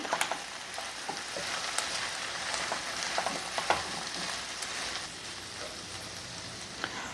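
Vegetables and whole spices with cumin powder and garam masala are stirred in a pot for veg pulao, giving a continuous crackling sizzle with scattered spoon clinks and scrapes.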